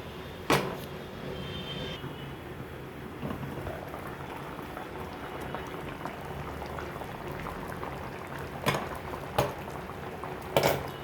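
Jute leaves and red lentils boil in a pot with a steady low bubbling and simmer running throughout, broken by a few brief knocks or clinks near the end.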